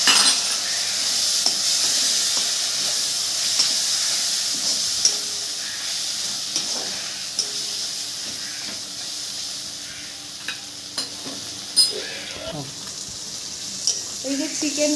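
A splash of water hits spice masala in a hot kadai, setting off a loud, hissing, steamy sizzle that stays strong and slowly settles, with a few clinks of a stirring utensil near the end.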